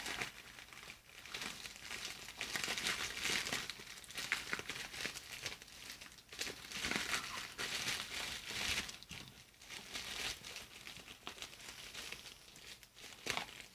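A mailed hard-copy package of Call of Duty: Black Ops 4 for Xbox One being unwrapped, with soft, repeated crinkling and tearing of wrapping, close but quiet, in irregular bursts.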